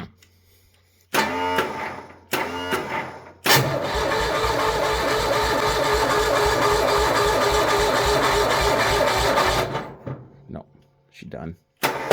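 A Bolens HT-23 lawn tractor engine with the choke on and a weak battery: two short bursts of cranking, then a longer crank that catches and runs steadily for several seconds before shutting off, loud and close with no talk.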